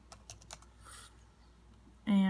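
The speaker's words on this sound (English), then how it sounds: "And then I'll type in frozen." Short burst of keyboard typing entering a search term on a computer, several quick keystrokes close up, followed by a brief tonal beep.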